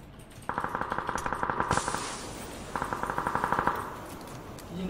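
Automatic rifle fire in PUBG, two rapid bursts of evenly spaced, loud, close shots, each lasting over a second, separated by a short gap, with a faint crackle trailing off at the end.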